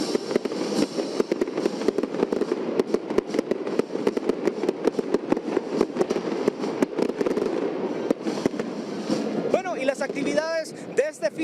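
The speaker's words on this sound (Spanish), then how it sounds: "Las actividades también han concluido con un show de fuegos artificiales acá en la Plaza Central." Fireworks at a public show in a central plaza for independence celebrations, heard as dense, continuous crackling and popping bursts from a large crowd area, with shriller whistling rockets near the end.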